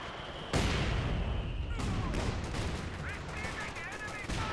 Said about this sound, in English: Good spot for a barrage.